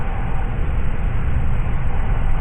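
Steady loud rumbling and rattling inside a moving passenger train, a continuous dense noise with no breaks and no talk.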